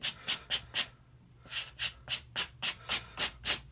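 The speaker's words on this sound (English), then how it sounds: "I am not going to scrub too hard because it's not the soft bristle brush, it's just the all-purpose brush" An all-purpose brush scrubs dirty Adidas Tubular sneakers in quick, even back-and-forth strokes, a steady run of soft rasping swishes close to the mic with a brief pause partway through.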